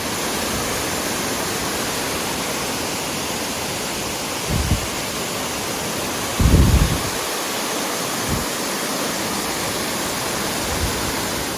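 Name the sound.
heavy rain pouring on a mountain trail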